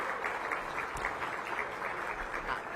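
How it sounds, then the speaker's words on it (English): Soft, steady applause from a gathered audience at a mayoral announcement event, heard at a distance as an even wash of many hands clapping without pause. "Please give our entire team a big round of applause."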